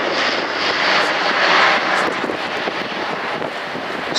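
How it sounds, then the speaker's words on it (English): An Airbus A400M military transport aircraft of 70 Squadron, Royal Air Force, flies past at an air show, its engines giving a loud, steady broadband roar that holds throughout with slight swells. "70 Squadron with the A400M, as you see in front here"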